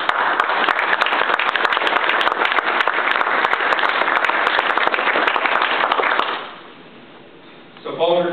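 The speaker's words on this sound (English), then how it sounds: "please have a round of applause for the Marines and Miles 14 and the cadets" A crowd at a military retirement ceremony claps steadily and loudly for several seconds, then the applause dies away into near quiet before a voice begins speaking.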